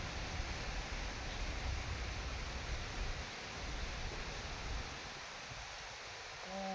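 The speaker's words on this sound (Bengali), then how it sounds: "এই দেখো কি বাতাস বাইরে" Wind rushes in a broad, steady roar with gusty low rumbles, then eases slightly near the end.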